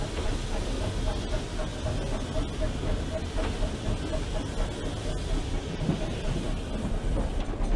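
Preserved branch line steam locomotive pulling away with a train of unfitted freight wagons, a steady rumbling roll with faint clickety-clack and hiss running continuously at close range.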